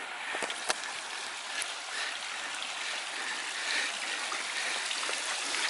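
A garden pond waterfall built over rocks pours steadily, making a continuous splashing rush of running water close by with a few brief clicks near the start.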